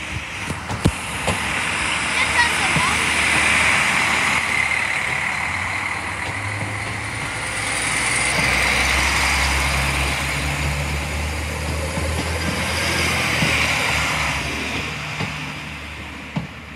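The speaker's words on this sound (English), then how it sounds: "Yep, there's another train coming." A train on the Larne Line in Northern Ireland rumbles past a level crossing with a long, low mechanical drone that swells, eases, then swells again, with faint voices in the background.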